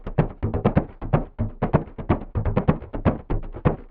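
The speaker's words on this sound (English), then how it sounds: "turn this percussion loop into a bass line or a bass idea" A percussion loop dropped two octaves so its hits become a deep, booming bass line, with steady rhythmic thumps repeating at a quick, even pace, loud and alone without talk.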